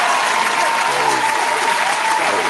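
Steady audience applause fills a hip-hop mixshow studio, continuous and even throughout, with a voice briefly speaking over it partway through.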